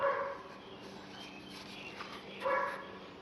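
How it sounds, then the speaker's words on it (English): Neighbors' dogs bark outdoors in a city setting, a couple of yips and short barks at a middle distance, separated by a quiet gap. "And yes, my neighbor dogs are out having a good time."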